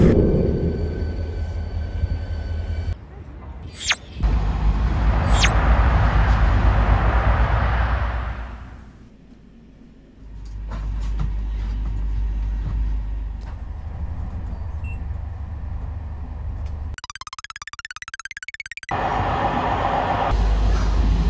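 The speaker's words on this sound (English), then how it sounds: "We are spending 7 hours on the train" Steady low rumble of a moving train in Morocco heard from inside a carriage, dipping briefly quieter midway, with occasional rattles and a higher whine near the end.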